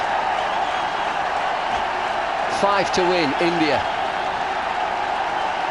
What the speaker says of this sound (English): Everybody on the feet, dancing, cheering, smiling because of that.